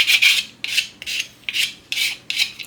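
A hand file rasps across the edges of a Kydex sheath to chamfer them, six close, even strokes in a steady back-and-forth rhythm with brief pauses between.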